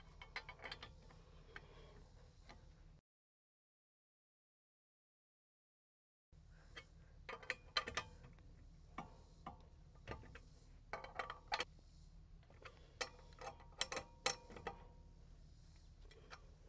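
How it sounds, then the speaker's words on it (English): A lug nut wrench tightens the wheel bolts on a sedan during a tire change, making faint metallic ratcheting clicks and scrapes in irregular runs, with a short silent gap partway through. No talking is heard. "take my lug nut wrench and start tightening these bolts until I can't tighten them anymore"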